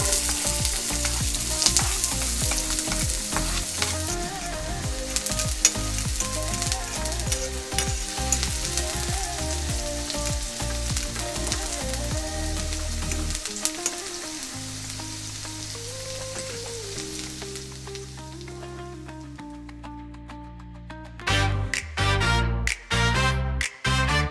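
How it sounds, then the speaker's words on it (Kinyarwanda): Onions frying in hot oil for an omelet, a steady dense sizzle under music that dominates, the frying fading out near the end as the music continues alone. "Amavuta yacu yahiye, tugiye gushyiraho ibitunguru byacu."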